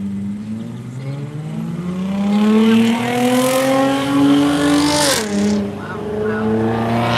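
Race cars on a game or broadcast revving and accelerating, engine pitch sweeping up and down with a sharp pass near the end, loud and continuous, with a person briefly exclaiming over it.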